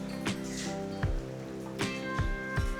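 Rain falling outside, heard as scattered close drips and splashing drops landing at irregular intervals over a steady soft wash of rainfall, with no voices.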